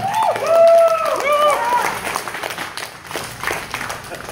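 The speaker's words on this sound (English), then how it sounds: "Give another round of applause" Applause from a comedy benefit show audience in Phoenix, Arizona, mixed with whoops, cheers and a host's voice over it; clapping stays dense and loud, then thins out toward the end.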